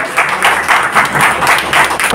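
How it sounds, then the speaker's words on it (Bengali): An audience at a Bengali jatra opera performance claps loudly in dense, rhythmic bursts that carry on throughout, filling the hall without any voices on top. "সকলে একটু জোরে হাততালি হবে, করতালি হবে।"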